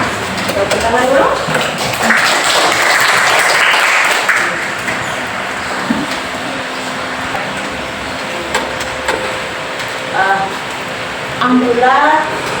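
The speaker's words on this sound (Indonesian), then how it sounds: "Tepuk tangan dulu." Students in an Indonesian Islamic religious education class clap together for a few seconds in a broad, hissy burst, with a teacher's voice talking before and after.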